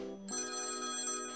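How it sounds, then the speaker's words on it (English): An electronic telephone ringtone sounds at a support hotline in the game Limbo Line, a bright, steady burst of ringing that starts abruptly after a brief lower tone and carries on loud and alone for over a second. "When a ringing disturbs my train of thought, sending me into a slight panic."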